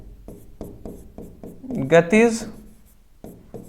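Chalk or marker writing on a classroom board during a Hindi-language physics lecture on gravitation, a series of short regular strokes roughly every half second, close and fairly quiet, alternating with the teacher's speech.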